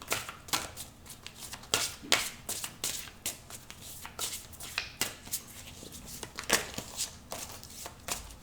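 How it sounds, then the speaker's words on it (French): Tarot cards are shuffled in a steady run of crisp riffling bursts, close and fairly quiet, with no talking. "on va prendre 3 petites cartes pour l'amour"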